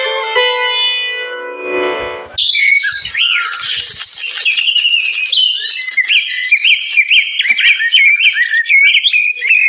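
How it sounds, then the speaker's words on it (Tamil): Parrot and dove calls serve as a sound effect in a Tamil radio drama, as a bright sustained musical tone gives way to loud, busy chirping and warbling bird calls that continue steadily to the end. "கிளியும் புறாக்களும் போட்டி கொண்டு வரவேற்பு கொடுக்க ஆயத்தமாகின்றன"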